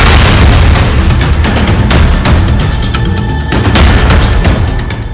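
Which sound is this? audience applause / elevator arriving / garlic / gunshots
gunshots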